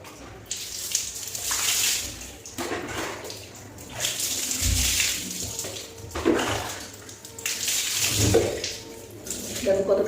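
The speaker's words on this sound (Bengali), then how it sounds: "চলো জল দিয়ে ধুয়ে" Water is poured and splashed while washing hair, a close gushing and trickling that swells and fades in several bursts, with a person speaking softly over parts of it.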